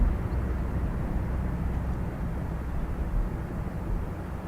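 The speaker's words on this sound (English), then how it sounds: "Bombardier Challenger 300 next." A Bombardier Challenger 300 business jet departs Dublin Airport, heard as a faint, steady broadband roar from a distance with no voices.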